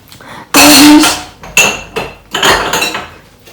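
Dishes and glasses being washed by hand, a few loud, close clinks and knocks of crockery and glass against each other and the sink, separated by short pauses.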